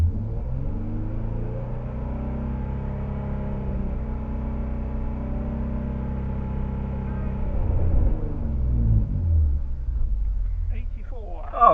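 A car engine is held steady at about 4,500 rpm for a track-day noise test, a constant droning hum close by that swells slightly before easing off near the end.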